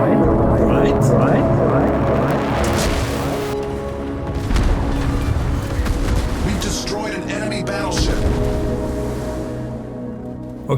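An American battleship fires a salvo in World of Warships, heavy booming gunfire and rumbling explosions layered over continuous engine drone, with a voice talking throughout.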